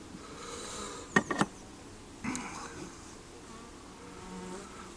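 Honeybees hum as a low, steady background buzz throughout a hive inspection, joined by a few sharp clicks and knocks from the hive equipment.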